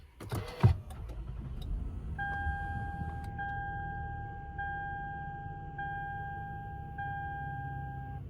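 A 2009 Lexus ES350 starts by push button: a short sharp burst of the starter and engine catching, then a quiet steady idle under a repeating two-tone chime pulsing about once a second.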